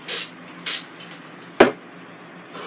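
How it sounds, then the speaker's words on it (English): Cooking oil sprayed into a Ninja Foodi two-basket air fryer basket: three short hissing bursts, with a light knock between them and a sharp clack after the last. "I'm spraying everything"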